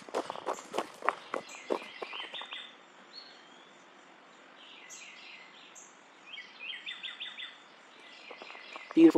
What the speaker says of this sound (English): Beautiful morning songs of the birds.